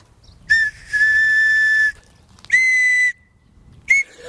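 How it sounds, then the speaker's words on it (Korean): An unusually shaped whistle is blown in three separate bursts: a short toot followed by a long steady tone, then a medium blast, then a brief final chirp, all loud and close. "호루라기였습니다."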